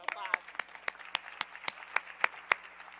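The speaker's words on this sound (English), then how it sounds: "I think we need another round of applause." Scattered applause at a fundraising cancer research auction event, a dozen or so sharp, evenly spaced claps ringing in a large room under a faint background hum.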